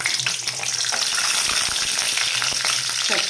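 Cashews frying in hot oil for a curry base, a loud dense crackling sizzle up close with quick stirring scrapes mixed in, no speech.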